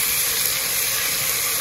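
Water poured into a hot cooking pan while onions and tomatoes cook, giving a steady, close hiss and sizzle of steam that holds evenly across the moment with no talking.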